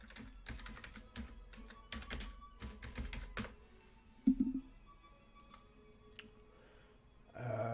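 Typing on a computer keyboard, a quick close burst of clicking keystrokes in irregular clusters, then a few isolated taps and a soft thump in a quiet room.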